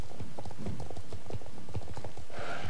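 Horse hooves clip-clopping in the video game Star Stable Online, a steady rhythmic trot of close, clear footfalls with a faint higher tone near the end and no talking.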